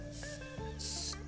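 Airbrush spraying paint in two short bursts of bright airy hiss over a faint background hum, close and fairly quiet.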